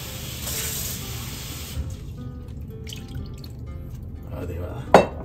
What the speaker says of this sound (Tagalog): At maglalagay po ako ng konting tubig.